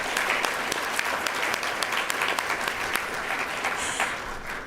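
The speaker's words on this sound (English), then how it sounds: "Let's give a quick round of applause to the student involvement team" Sustained applause from an audience at a student leadership awards ceremony, dense and steady clapping filling the room with no talking over it.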